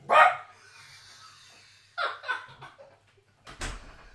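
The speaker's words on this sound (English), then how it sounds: "and that's Sauce that's barking." A few sharp dog barks sound nearby, spaced apart with quiet gaps, the last bark loud and abrupt.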